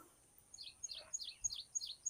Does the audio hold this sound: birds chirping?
yes